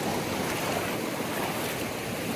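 Steady rushing water fills the scene, a continuous broadband roar like a river pouring over a low weir, close by with no voices.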